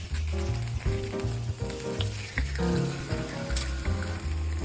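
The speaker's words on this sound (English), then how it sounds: "And then we cook the fillets 3 to 5 minutes on each side." Seasoned fish fillets fry in oil in a pan, giving a loud, continuous close sizzle and crackle. A rhythmic musical pattern plays underneath.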